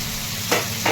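Potatoes tipped into hot oil with golden-fried onions for a tawa batata dry bhaji give a steady frying hiss, with a brighter sizzle burst about halfway through and another at the very end.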